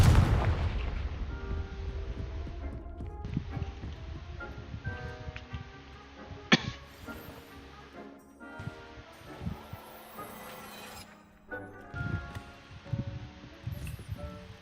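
A Confringo blasting spell explodes in the Hogwarts Legacy video game, one sharp burst standing out from a busy game mix with music and rumbling effects.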